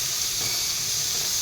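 Ground cumin and coriander powder sizzle in hot oil in a pan while cooking an Assamese fish curry, a continuous close hiss with steady steam and no talking.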